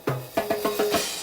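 Timbale fill from a percussion track, five quick sharp metallic-shelled strikes in a short accelerating run, bright ringing pings, close and clear.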